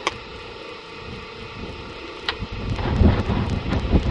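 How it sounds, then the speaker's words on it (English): Desert wind blows across the microphone in a rough, rumbling roar that builds and grows louder over the few seconds, with no voices. "as you can tell, the wind does not want to cooperate"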